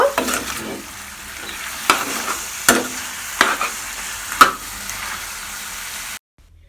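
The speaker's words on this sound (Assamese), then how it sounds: "হাই হিটত ফ্ৰাই কৰিব" Chicken pieces fry over high heat in a pan for a korma, a steady close sizzle broken by regular sharp scrapes of a spoon stirring, about one every second, before the sound cuts off.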